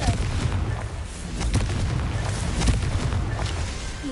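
A Confringo explosion spell in a Harry Potter video game, a dense rumbling burst with booming low thuds that holds steady for several seconds.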